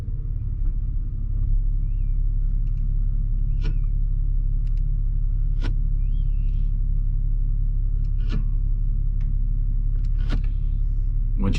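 A 2006 Saturn Vue engine idles steadily with a constant low rumble while the transmission is shifted through each gear, with faint clicks and shifts over the hum and no talking.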